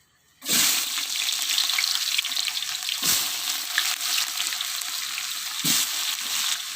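Onions drop into hot oil with cardamom, star anise and cloves for ghee rice, bursting into a loud, steady sizzle that fills the clip after a brief quiet start, with occasional stirring scrapes.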